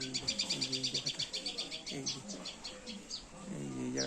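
Common tailorbird chicks hidden in dense leaves, giving rapid high repeated chirps in quick bursts nearby, with a busy flutter of calls throughout.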